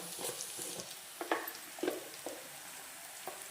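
Amaranth leaves frying with onions in a pan give a quiet, soft sizzle, broken by a few light scraping and stirring knocks. No one talks.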